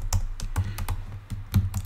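Quick irregular clacks of a computer keyboard, close and crisp, with several keystrokes in short bursts and no talking, while JavaScript code is typed.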